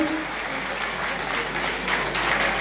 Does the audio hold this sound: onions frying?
no